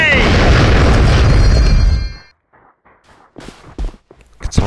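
A grenade blast in the shooter game AVA, heard as a loud, close explosion roaring for about two seconds and then cutting out, followed by quieter scattered thumps and a short voice.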